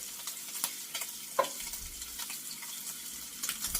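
Canned beans poured juice and all into a hot pan for a three-bean casserole, sizzling and frying steadily with faint stirring, close and alone.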